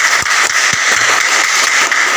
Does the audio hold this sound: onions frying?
no